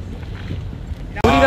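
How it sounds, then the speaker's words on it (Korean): A twin-engine jet boat on a Mexico cruise shore excursion: wind and water rumble give way, near the end, to a sudden loud engine roar with a tonal whine. "우리가 탈 제트 보트입니다."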